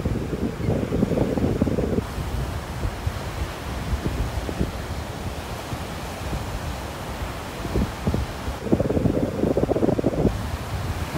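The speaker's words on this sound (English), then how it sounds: "That wind is really blowing the camera around." Strong wind buffets an iPhone microphone on a beach in North Naples, with rushing surf underneath; loud, continuous roar with heavier gusts at the start and near the end, no talking.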